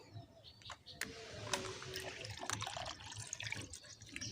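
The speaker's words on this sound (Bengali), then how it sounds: "তো এখানে কড়াতে দুধ দিয়ে দিচ্ছি আমি এক লিটার দুধ নিয়ে নিয়েছি" Milk, one litre cut from packets, pours into a wok (kadai) for making milk chitoi pitha, a steady liquid splashing and trickling close by with a few clinks, quiet and without talk.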